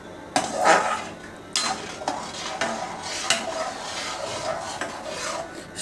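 A spoon scrapes and stirs shev ladoo mixture with cardamom powder in a metal pan, giving repeated rasping strokes with light clinks. The stirring carries on steadily, close and fairly quiet.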